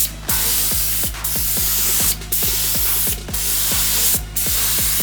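Spray gun painting a pickup truck, a loud steady hiss of paint spray with several short breaks as the trigger is released, over a rhythmic mechanical clatter from the running air compressor.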